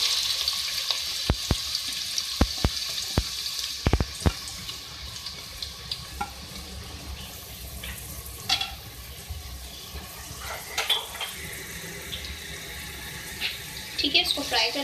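Four medium-sized onions dropped into hot oil for a chicken do piyaza stew, a steady soft sizzle with a few sharp clatters of stirring early on and light utensil scrapes later, no talking.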